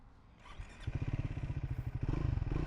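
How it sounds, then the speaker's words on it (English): Single-cylinder thumper engine of a Triumph Scrambler 400 X motorcycle chugging at a steady idle, then picking up into rapid, even loud pulses close by, with no talk. "Oh, it has a nice little sound, that little thumper engine."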